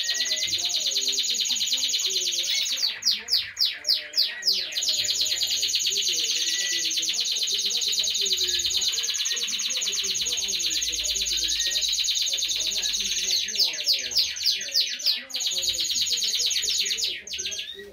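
Many small aviary birds sing loudly and continuously at close range, with rapid repeated trills and chirps overlapping in a busy chorus.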